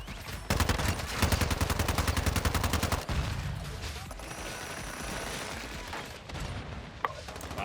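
Rapid automatic gunfire in the video game Modern Warfare 2 on the Shipment map: a fast, loud burst of evenly spaced shots for a few seconds, then quieter rattling, mechanical clicks and a single sharp report.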